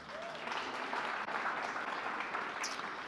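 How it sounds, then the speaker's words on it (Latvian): Steady applause from a conference audience, a continuous even wash of clapping at moderate volume with no voices over it. "aplaus Dācei."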